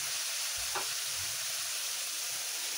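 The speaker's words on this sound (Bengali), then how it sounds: "সবজিটাকে নেড়ে চেড়ে ভালো করে কষিয়ে নেব" Vegetables with salt stir-fried in a pan for a Bengali rui fish dish with potol, jhinge and potato, giving a steady soft sizzle with a brief scrape of stirring, moderately close.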